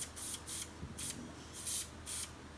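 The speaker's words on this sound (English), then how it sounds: "we're going to take this after we've prepped it and we're going to spray it" Short aerosol bursts of Klyr-Fire clear spray misted onto a torch-fired basse-taille enamel earring, about five hissing puffs in an uneven rhythm, close and fairly quiet with no talking.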